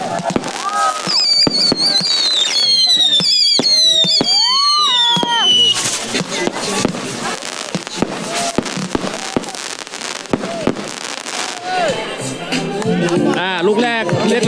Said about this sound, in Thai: มาแล้วมาแล้วพลุมาแล้วพลุมาแล้ว